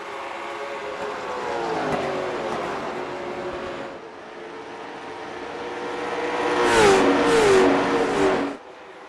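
Late model stock cars racing at Richmond drone past on the track, engines rising and falling as they pass, a louder roaring pass near the end before fading, with no talk.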